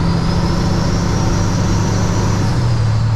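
A Kenworth W900 truck with an Eaton Fuller 18-speed transmission downshifts, its diesel engine a loud, steady in-cab drone whose pitch steps up near the end as the revs rise.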